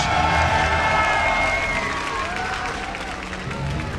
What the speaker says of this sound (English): Give a big cheer for Flash!